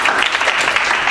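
Loud, close applause from a sales meeting crowd welcoming a new speaker, a brief dense burst of clapping at constant level.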